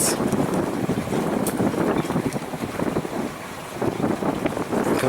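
Gusty wind in a harbor while solo sailing a boat, a constant loud roaring rush on the microphone that swells and eases with each gust, with water noise underneath.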